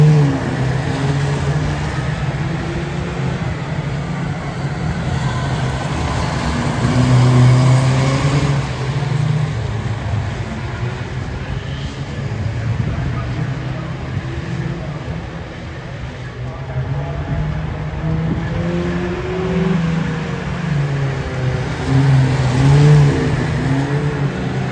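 Race car lapping a wet track at Cowdenbeath Racewall, engine droning and rising and falling in pitch amid spray and other cars, with a voice talking over it.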